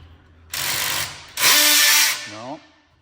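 A cordless power drill with its clutch set light loosens lug nuts on a Tesla wheel. It gives two loud, close bursts of whirring, and the second winds down with a falling whine.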